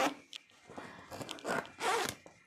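A zipper on a quilting frame's leader is pulled in several short, rasping bursts, close and loud, with brief pauses between tugs.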